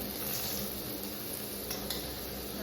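Onions with turmeric, coriander powder and masala powder fry in a pan for cabbage palya, a steady soft sizzle with faint stirring, quiet and continuous with no talk.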